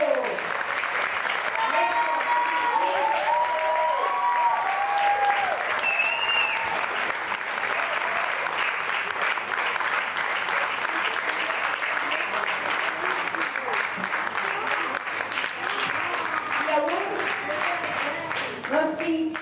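An audience at a mission children's theatre play claps steadily and loudly for a dance group, a dense, continuous wash of applause with faint voices and cheers mixed in.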